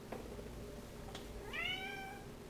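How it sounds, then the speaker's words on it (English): A cat meows once, a clear rising-and-falling call near the end, faint over quiet background hum with no talking. "You talking to me, cat?"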